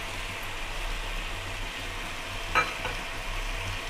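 Chopped carrots, about 100 grams, tipped into a pan of frying tomatoes for a South Indian vegetable broth. A steady sizzle runs throughout, with one short clatter of stirring partway through and no voices.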